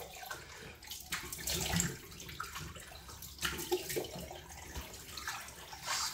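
Shaving razor rinsed under running water from a tap, a close, moderately quiet splashing flow broken by a few knocks and taps of the razor, with no talking.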